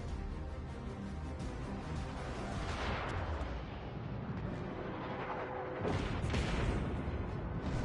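Rapid volleys of ship secondary guns boom continuously in World of Warships Legends naval combat, a dense rumbling barrage of overlapping shots that swells louder near the end.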